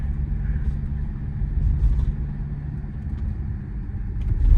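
A BMW X4 with a 2-liter diesel engine is driven on the road, giving a steady low cabin rumble and engine drone that swells slightly at times, with no talk over it.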